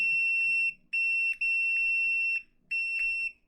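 Multimeter beeping during a continuity test on a Mustool MT8206, a clear high-pitched electronic tone sounding in five short repeated beeps with brief gaps between them.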